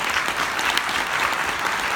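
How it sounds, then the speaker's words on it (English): An audience breaks into a round of applause, a steady wash of many hands clapping at even loudness throughout, with a faint crowd murmur underneath. "Let's give her a round of applause."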